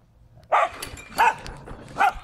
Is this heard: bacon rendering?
no